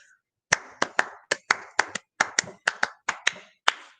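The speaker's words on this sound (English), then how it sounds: "Beat in your feet, clap the rhythm while you're singing." Hands clap a syncopated rhythm of about a dozen sharp, close claps. The claps come in uneven groupings after a short silent start, and any foot stomping is not clearly separable.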